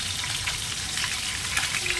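Stuffed parval (pointed gourd) cooking slowly in a pan over a low gas flame, giving a steady, soft, close sizzle and hiss with no talking.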